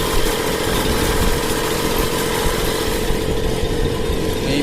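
A diesel tractor engine runs steadily and loudly close by, a constant rough mechanical drone with no breaks and no voices.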